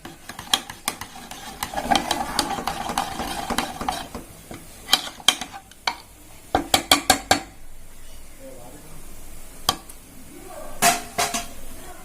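Cooked dal and tomato being mashed in a metal pot, giving irregular scraping, stirring and knocking clatters with sharp metallic clinks and a faint sizzle underneath, near and moderately loud, with no talk.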